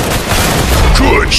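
Grenade explosion in the CS:GO shooter, a loud sustained boom with gunfire-like crackle running through the whole moment, and a few short radio-style voice calls overlapping near the end.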